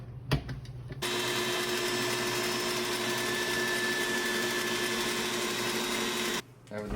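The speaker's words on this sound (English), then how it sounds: "And now we put it into the KitchenAid. And mix everything for 2 minutes." KitchenAid stand mixer whipping tiramisu cream, a steady loud motor whir with a high whine that starts abruptly after a second, runs continuously for about five seconds, then cuts off.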